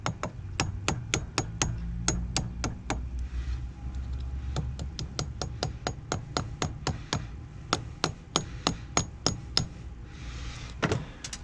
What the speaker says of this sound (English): get a little hammer and knock them into place